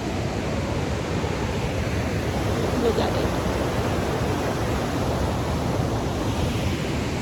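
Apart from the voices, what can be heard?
river flowing water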